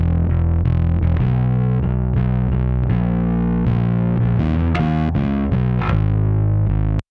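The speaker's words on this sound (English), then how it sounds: "I need a super nasty, gnarly, fuzzy bass tone" Fuzzy, gnarly distorted bass tone through the Kit Plugins BB A5 plugin, a dense run of loud, close picked notes playing continuously for about seven seconds with no voices.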